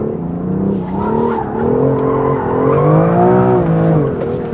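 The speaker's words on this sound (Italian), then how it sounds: "Vediamo come andiamo con i drift con questa vettura" A BMW M2 CS drifting on a race track, with loud, close tire squeal sliding up and down in pitch over a droning engine, continuous throughout.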